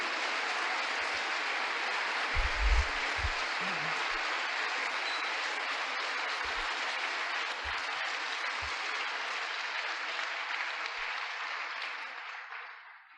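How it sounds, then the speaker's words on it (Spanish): A church congregation at a sermon applauds the Lord with dense, sustained clapping that runs steadily for over twelve seconds before tapering off, with a few low thumps near the start. "un aplauso para el Señor"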